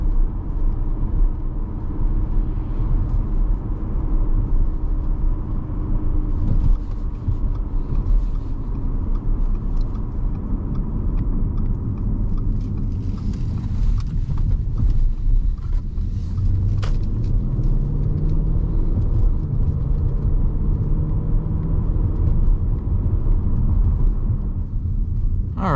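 A 2014 Audi RS5 coupe on the road, with a continuous deep rumble of engine and tires heard from inside the cabin. The pitch rises and falls gently, and a few faint knocks and rattles come through, with no talking.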